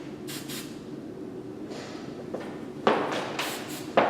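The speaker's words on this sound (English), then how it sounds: "I'm just going to give her a final spray, making sure nothing's too loose or messy looking" Hairspray hissing onto a bridal updo with extensions: a few short spray bursts late on, close and fairly loud over a quiet room, with faint fainter puffs earlier.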